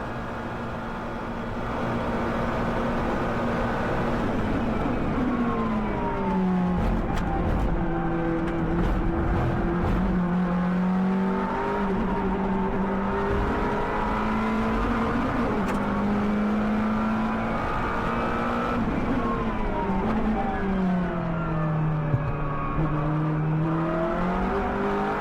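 A race car engine in the iRacing video game, heard from onboard, drones loudly and continuously, its pitch sweeping up through the gears and falling back on lifts and braking, with no one talking.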